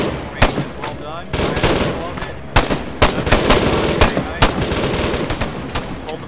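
Gunfire rattles through an Arma 3 military simulation operation as repeated sharp automatic bursts and single loud shots at irregular intervals, with voices talking over and between them.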